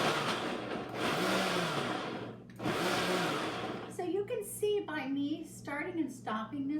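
A blender pulses green smoothie ingredients with spinach in two loud bursts with a brief stop between them, then cuts off as a person starts talking.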